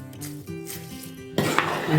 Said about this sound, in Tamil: நெய்யோடவே சேர்த்து நல்லா கிளறி விட்டுருங்க.